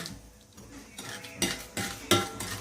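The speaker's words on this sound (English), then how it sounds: "So gently get a spoon or a spatula and push it down." Spatula or spoon scraping a creamed butter and sugar mixture down the sides of a mixing bowl for cake batter, a few distinct scrapes and clinks growing louder toward the end, close by with no talking.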